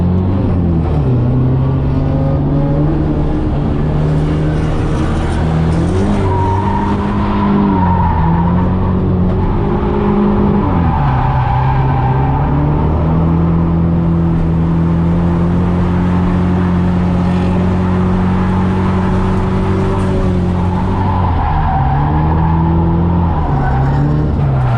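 Drift car on track during an open drift session, its engine droning loud and sustained with pitch swings as the throttle rises and falls, tire scrub mixed in, no talk.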